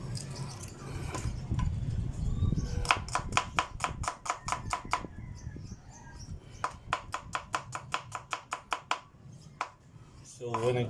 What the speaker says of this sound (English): So once you chop the onions